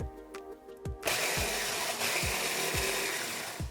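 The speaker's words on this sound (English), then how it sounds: "We're just gonna blend those until they're almost a powder" A blender grinds gluten-free Special K cereal toward a powder, starting abruptly after a second of quiet and running as a steady, loud whirring roar with faint rhythmic thumps underneath.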